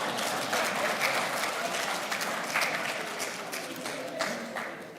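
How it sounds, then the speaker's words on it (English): A crowd at a Canada–Nigeria business and investment summit gala claps for a speaker, steady applause that swells briefly and then gradually tapers off. "Clap for me."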